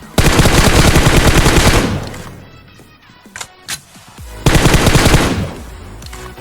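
Automatic gunfire in the mobile battle royale game PUBG Mobile: two loud, dense bursts of rapid shots, close up, separated by a lull with a few scattered thuds and clicks.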